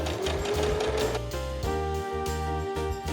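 A sewing machine running steadily as it stitches the folded long edges of an IKEA blanket, a fast even mechanical chatter close up with no talk.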